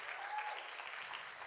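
An audience clapping briefly at a church gathering, a dense, steady wash of applause at moderate level with a faint voice or tone briefly audible early on.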